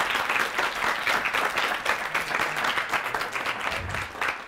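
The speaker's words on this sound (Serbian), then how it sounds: "Aplauz za negaciju." Audience in a school hall applauding the negative team at a student debate, continuous dense clapping from a crowd throughout, fairly near and steady.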